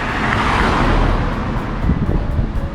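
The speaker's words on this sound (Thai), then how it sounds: "ขับรถเร็วในญี่ปุ่นก็มีนะนี่ให้ตัวเป็นตัวอย่าง" A car speeds past on a residential Tokyo street in Shinjuku's Yotsuya area, a steady loud rush of engine and tyre noise with wind buffeting, no talking.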